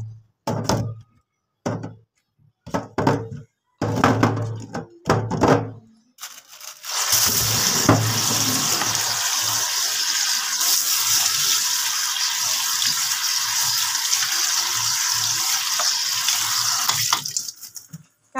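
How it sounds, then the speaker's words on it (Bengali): Eggs being washed with Vim dishwashing soap under a running kitchen tap, a few knocks and handling thumps at first, then a steady close rush of water that runs for about ten seconds before cutting off. "এখন এই যে ডিমগুলা সুন্দর করে একটু ভিম দিয়ে আমি ধুয়ে নেব।"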